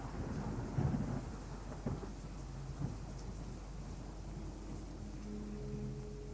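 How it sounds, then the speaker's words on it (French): A thunderstorm in a horror video game gives a low, constant rumble of rain, broken by a few duller thunder thumps in the first three seconds, with no voices. "En général, j'aime pas les orages dans les jeux d'horreur."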